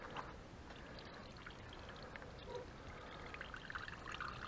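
Apple cider streams out of a hand-cranked cider press in a steady, close trickling pour that runs continuously with faint dribbles and splashes.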